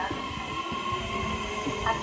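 A JR East E131 series electric commuter train departs Uhara station, rumbling steadily with a continuous low mechanical drone and faint rail noise.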